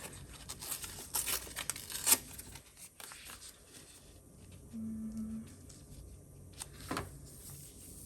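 Paper cut by hand for a Lord of the Rings themed planner spread gives faint, quiet snips and crinkly tearing rustles in bursts, close by and with no talking.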